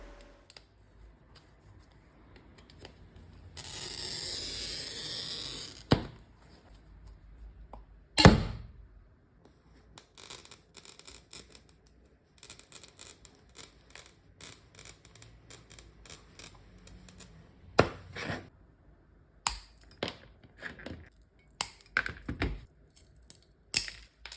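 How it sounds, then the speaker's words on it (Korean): Stained glass being scored and cut along a ruler, with sharp isolated clicks, a brief grinding score stroke and scattered small ticks and taps spread irregularly, close and fairly quiet. "유리끼리 맞닿아야 하는 직선은 자를 대고 반듯하게 잘라줄게요"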